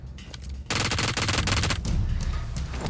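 Loud automatic gunfire in the PUBG Mobile battle royale game, a dense rapid burst starting after a brief quiet lead-in and continuing with scattered follow-up shots close by.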